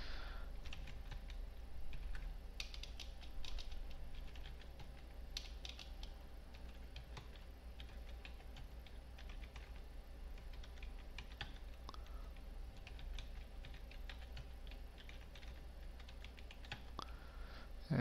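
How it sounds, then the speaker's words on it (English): Typing a passphrase on a computer keyboard in a quiet room: steady, soft keystroke clicks run throughout at moderate distance, fairly faint over a low background hum, with no voices. "I'm going to enter my passphrase"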